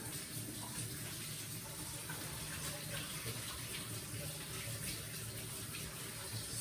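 Tap water runs steadily into a sink while hands are washed free of cake dough, a constant soft rushing with no voices over it.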